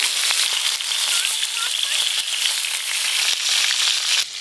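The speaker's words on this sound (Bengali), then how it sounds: "এবার ইলিশ মাছের মাথাগুলো ভেজে নেব।" Hilsa fish heads coated in salt and turmeric fry in hot oil, giving a steady, loud crackling sizzle that runs close and continuous throughout.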